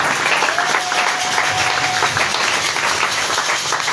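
A church congregation keeps up steady, dense applause throughout, a full room of clapping hands with a faint murmur of voices mixed in.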